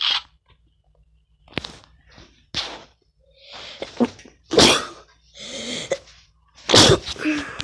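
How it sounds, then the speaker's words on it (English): A few sharp, explosive bursts, one of them an odd human sneeze, break out alone between short quiet gaps, close and fairly loud. "that was the weirdest sneeze ever"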